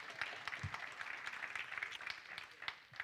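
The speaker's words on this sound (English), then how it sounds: "Yeah, that's worth clapping over." A church congregation claps warmly during a budget presentation, the applause dense and continuous with individual claps popping out, holding at a steady level for a few seconds without talk.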